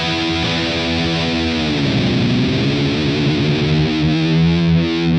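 A heavy, distorted electric guitar played through the Metal 2000 amp preset on a compact modelling amp rings out in thick sustained chords, with a sweeping, modulated tone partway through.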